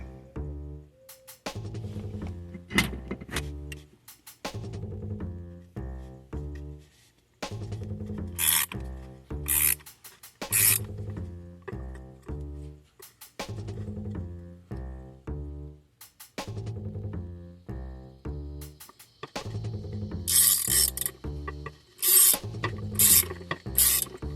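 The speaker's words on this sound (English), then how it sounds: "Again with the 15mm and the crescent wrench to hold the top of it." A 15mm wrench and a crescent wrench work on a Chrysler 300 rear shock, giving close metallic ratcheting clicks and rubbing in irregular bursts with brief gaps and occasional brighter clanks.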